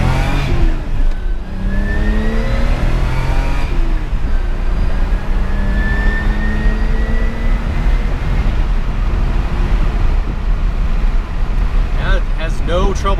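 A BMW E30 accelerates on the road, its engine rising steadily in pitch through the gears over constant road and wind rumble, loud and close from inside the car.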